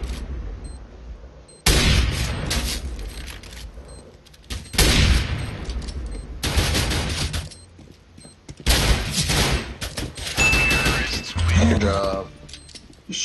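Bursts of rapid gunfire from the Counter-Strike video game arrive in several separate volleys, loud and sharp, with quieter gaps between them and people talking in the background.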